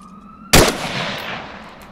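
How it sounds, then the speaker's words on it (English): A single loud rifle shot in the military game Arma 3 cracks close by and leaves a long echoing tail after a quiet electronic hum. "Copy, I'm gonna open fire on one guy."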